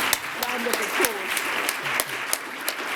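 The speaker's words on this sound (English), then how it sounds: "Let's put another round of applause." Audience applause at a diversity conference held at the Royal Society, a steady wash of clapping with sharp individual claps standing out and a voice speaking underneath.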